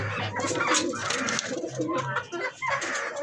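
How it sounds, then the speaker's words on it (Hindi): Soft, low Indian fantail pigeon cooing repeats in short throaty phrases, close by, mixed with fainter bird calls. "इंडियन फैन टेल कबूतर"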